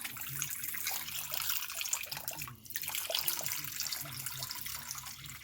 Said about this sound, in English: I'm going to go ahead and add my 750 grams of water